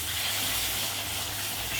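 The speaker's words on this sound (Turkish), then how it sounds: "Patlıcanlarımı bu arada közlenmiş biberle patlıcanları tencereye atalım." Eggplants and roasted peppers sizzle in a pot, a steady, even frying hiss that carries on without a break, close and moderately loud.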